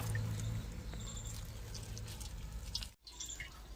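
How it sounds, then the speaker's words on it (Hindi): Refined cooking oil pours from a plastic pouch into a kadhai, a soft continuous glugging and trickling stream close by that breaks off briefly near the end. "रिफाइंड को हम डाल देते हैं"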